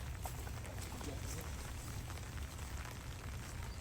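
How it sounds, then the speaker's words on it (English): Steady rain begins falling on a golf course in cold weather, a dense even patter that hisses continuously throughout without any clear break. "We already hear the rain starting."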